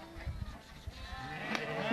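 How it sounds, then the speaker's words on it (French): Sheep let out onto an alpine pasture bleat in short overlapping calls, close and fairly loud, mixed with shuffling movement. "Alors maintenant on libère tous les moutons"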